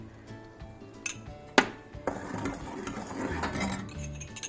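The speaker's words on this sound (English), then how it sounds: "now this is on the gas where I had added the curd, and just mix it well" Curd being mixed in a pan on a gas stove for Kashmiri koftas, with a spoon clinking and scraping against the metal, one sharp clank, and a continuous busy stirring texture throughout.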